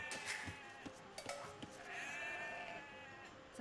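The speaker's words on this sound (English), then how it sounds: "Is there only one sheep?" A sheep bleats in a few drawn-out wavering calls over a dense, noisy background with scattered clicks, fairly faint overall.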